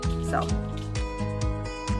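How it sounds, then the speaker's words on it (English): A pet dog indoors barks repeatedly in short, loud bursts at another dog seen outside, with a person speaking over the barking. "Sorry, that's my dog."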